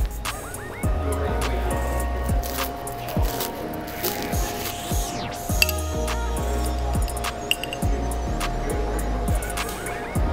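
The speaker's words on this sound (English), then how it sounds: "A nice stir there." Ginger ale drink stirred in a glass jug, with scattered clinks and light tapping of the stirrer against the glass, close by over soft background music.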